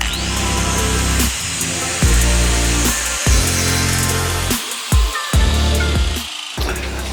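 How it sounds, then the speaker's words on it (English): An electric grinder shaving metal off a blade for an antweight combat robot, a loud whining motor that drops and dips in pitch as the blade is pressed to the wheel in repeated passes, spinning back up between contacts. "we're gonna plug in our grinder, and let's shave a little metal off."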